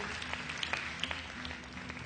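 Audience applause at a Ramzan television transmission, steady dense clapping from a studio crowd with a hum underneath, lasting about two seconds.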